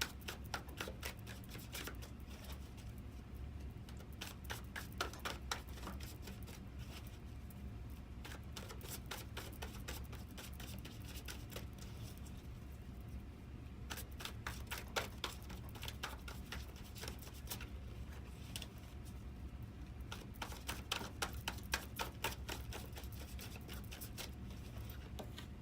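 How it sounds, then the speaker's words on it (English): Soft, rapid riffling and flicking of tarot cards being shuffled repeats in quick bursts, quiet and close, with no voices. "let's go on and finish shuffling and see what these cards really have to say"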